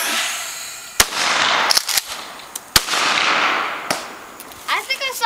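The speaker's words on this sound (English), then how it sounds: "It's called air cannon skeet shooting." Air cannon firing at clay skeet outdoors, several sharp loud bangs and cracks over a rushing blast of air, with a voice briefly heard near the end.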